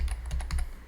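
Fingers tap out Python code on a computer keyboard in a quick, uneven run of about eight crisp keystrokes, close and clear with no talk.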